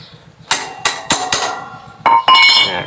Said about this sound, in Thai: เล็งให้ดีแล้วก็ค้อนเคาะผ่านเข้ามาเลยนะครับ เนี่ยค้อนเคาะผ่านเข้ามาเลย